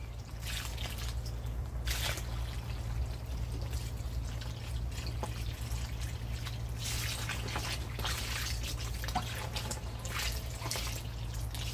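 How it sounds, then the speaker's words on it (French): Water poured generously onto the soil around a newly planted mandarin tree in a garden, about ten litres, a steady trickling and dripping wash under a constant low hum, with no talking. "Et ensuite, on va mettre 10 bons litres d'eau. Là, je vais bien l'arroser."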